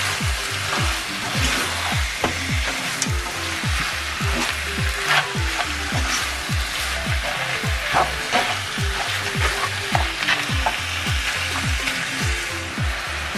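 Mutton curry sizzles and spatters as it is stir-fried in a hot pan, loud continuous frying crackle with rhythmic scraping strokes of the spoon against the pan.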